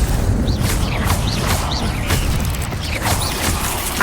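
Levioso spell casting in the video game Hogwarts Legacy, rendered as a steady mechanical, creaking magical texture with a recurring bright chirp roughly every half second, loud and continuous for about four seconds.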